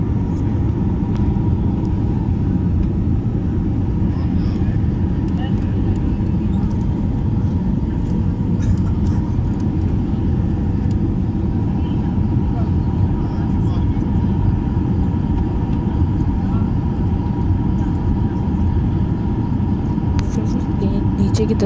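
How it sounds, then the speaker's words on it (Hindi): Passenger airplane descending to land, a steady loud cabin engine roar and rumble that stays constant from start to finish, with no speech. "नीचे की तरफ जा रहा है लैंडिंग के लिए"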